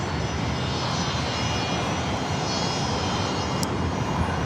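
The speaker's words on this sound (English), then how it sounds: "787-8 Dreamliner taking off to Tokyo" A Boeing 787-8 Dreamliner takes off from LAX, its jet engines a loud, steady broadband roar that holds without pause throughout.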